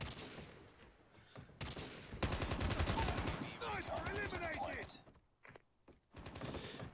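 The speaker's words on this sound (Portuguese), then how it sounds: "Eu estou a ouvir os tiros de todo lado" Rapid bursts of automatic gunfire and single shots from the mobile video game Call of Duty Mobile, loud and dense through the middle, with someone talking over parts of it.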